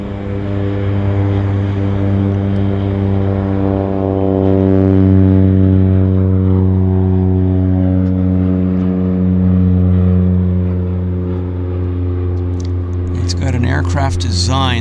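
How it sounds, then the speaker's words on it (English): A Cessna Caravan single-engine turboprop departs at Vancouver airport, its loud steady propeller drone holding strong harmonic tones throughout, swelling slightly midway before a brief burst of higher noise near the end. "Yes, the caravan is about to depart."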